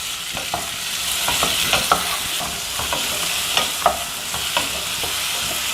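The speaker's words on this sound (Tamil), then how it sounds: "இன்னும் கொஞ்சம் நேரம் வதக்கிக்கலாம்." Chayote with tomato and tamarind sizzles in a pan while a spoon stirs and scrapes, steady frying hiss with irregular soft clinks and scrapes, close and fairly loud, no talk.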